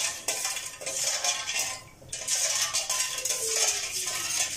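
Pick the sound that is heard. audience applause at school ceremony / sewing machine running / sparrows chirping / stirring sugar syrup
stirring sugar syrup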